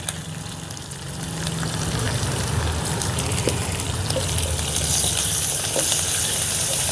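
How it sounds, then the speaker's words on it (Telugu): Curry leaves and asafoetida dropped into hot oil with fried dry red chillies for a sambar tempering, a loud, close, steady sizzle that swells slightly as it goes on. "ఇప్పుడు ఇందులో ఒక ఐదారు రెబ్బలు కరివేపాకు అలాగే ఇంగువ"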